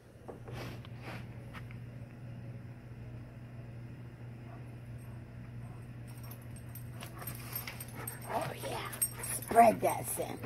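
An Alaskan Malamute whines and yips near the mic, louder toward the end, over a steady low hum with faint background noise.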